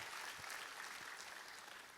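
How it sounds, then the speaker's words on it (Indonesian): A church congregation applauds in a steady, diffuse roar of clapping that sounds soft and somewhat distant, with no speech over it. "Kita kasih tepuk tangan yang paling meriah buat Tuhan."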